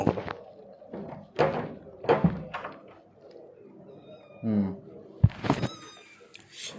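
A house cat meows a few times in short calls between bursts of talking in a kitchen, with a sharp knock or thump near the end.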